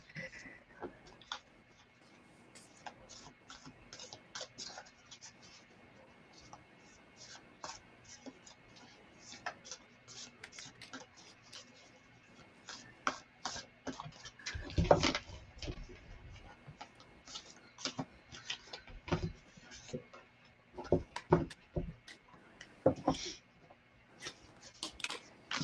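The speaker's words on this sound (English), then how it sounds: "Some cards are loud when you shuffle." Reading cards being shuffled at close range, a run of quick crisp ticking and riffling clicks in irregular bursts, with a few louder snaps near the middle and toward the end over a quiet background.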